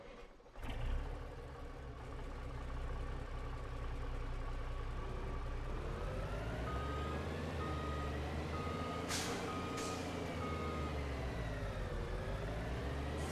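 Fuel truck reversing in the Farming Simulator 25 video game, with a steady backup beep repeating over a continuous truck engine drone and a brief air-brake hiss partway through.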